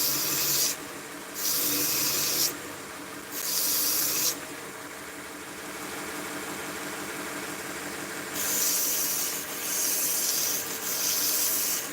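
Coarse 60-grit abrasive rasping against a crosscut micarta knife handle, several loud hissing strokes in bursts separated by quieter stretches of steady background grinding, close up with no talk.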